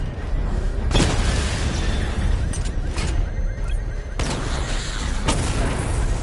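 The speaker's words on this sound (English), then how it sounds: "Missile barrage level 1 ready." In the Batman Arkham Knight video game, a missile barrage sets off a string of loud, booming explosions at irregular intervals over a constant rumbling, heavy background.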